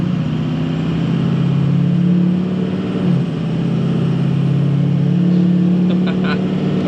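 A truck pulling out of a driveway with a steady mid-pitched engine drone and low rumble, close and continuous, the engine note dipping briefly midway, with someone talking over it.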